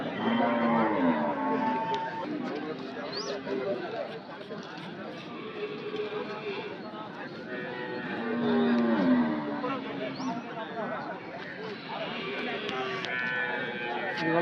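Cattle lowing at a busy livestock market for dairy cows in Anthiyur, repeated moos rising over a steady crowd din as people bargain and talk throughout.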